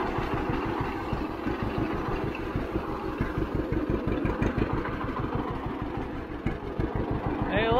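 A 1951 John Deere A tractor engine runs in gear with a steady, loud, close chugging rhythm throughout, while people talk over it.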